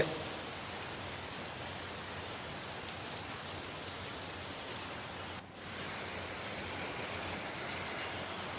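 Heavy rain pours steadily in Ernakulam, Kerala, a dense unbroken hiss with a brief dip midway and a couple of faint ticks, with no voices.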